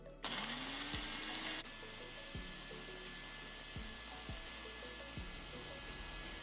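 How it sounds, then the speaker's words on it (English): A blender whirs through roasted peppers, habanero chilies and oil for jollof stew base. It starts with a loud buzzing burst, then runs on at a steady hum with faint repeated knocks, and no talk. "Now what you're gonna do is blend it up."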